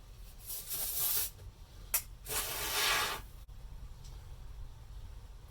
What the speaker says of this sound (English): they just spray it with the foam, let it expand